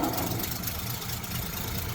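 A 1936 Rolls-Royce 20/25 engine idles just after being restarted from running out of fuel, giving a steady, smooth low rumble at an even level throughout, with no pauses or voices.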